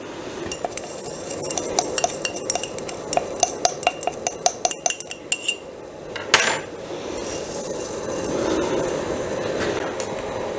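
A metal skewer stirs beeswax melting into oil, clinking and tapping against the pot in a quick irregular rhythm, with one louder clang before settling into a soft, steady swish.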